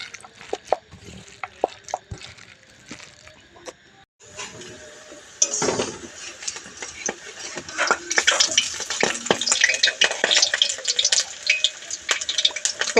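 Fritters made from khesari (grass pea) lentils frying in hot oil, a steady close crackle and sizzle that swells louder partway through, mixed with clinks of utensils against the pan and no talking.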